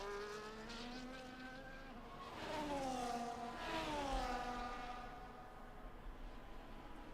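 Haas Formula 1 race cars screaming past in a racing game set in Las Vegas, high engine whines gliding up and down as they approach and pass, loud and close, several cars overlapping with no talk.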